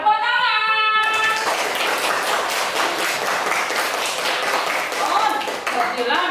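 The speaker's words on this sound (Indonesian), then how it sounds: "Iya, tepuk tangan." A classroom of schoolchildren bursts into dense, steady clapping after a brief moment of voices, the many hands rattling together loudly and evenly for several seconds.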